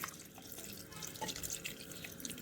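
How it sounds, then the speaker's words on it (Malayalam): Water pours into a pan of crab roast being cooked, a steady soft trickling and splashing that runs on without a break, fairly faint, with no one talking over it. "നമുക്കതിന് ആവശ്യത്തിന് വെള്ളം ഒഴിച്ചു കൊടുക്കാം"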